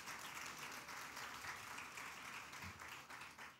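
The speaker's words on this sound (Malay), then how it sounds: "Kita beri tepukan kepada mereka." Audience applause fills a launch ceremony for the Virtual Island of Penang in Malaysia, a steady broadband wash of many hands clapping at moderate distance, sustained for several seconds without speech.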